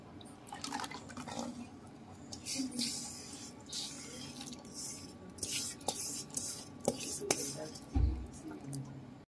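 Cooled oil being stirred into homemade tomato pickle: wet, sloppy mixing with intermittent clinks and scrapes of a utensil against the container, close by, with a faint voice in the background.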